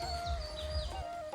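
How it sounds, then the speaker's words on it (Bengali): Faint bird chirps and twittering drift over a steady electrical whine and low rumble, brief and somewhat distant. "পাখির কিচিরমিচির আওয়াজ"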